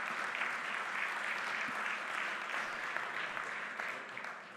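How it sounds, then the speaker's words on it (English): Audience applause for a panel at a marina and yacht industry event, a soft, even patter of many hands at some distance, sustained and tapering slightly at the end. "So a little round of applause for the panel."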